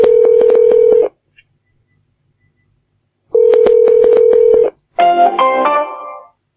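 Telephone tones on a call attempt, two bursts of a steady beeping tone pattern separated by silence, then a rising three-note error tone, loud and alone.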